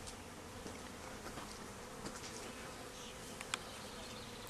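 Faint, steady buzzing of a bee swarm clustered on a tree outdoors, with soft humming wings and no talk.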